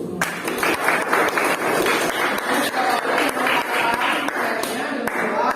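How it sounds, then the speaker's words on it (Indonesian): A classroom applauds a student group that has just presented, with a steady wash of many hands clapping throughout, mixed with some crowd noise. "tepuk tangan untuk kelompok yang tampil, tepuk tangan dulu"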